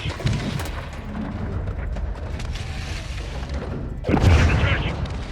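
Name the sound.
RPG explosions in video game Modern Warfare 2 Remake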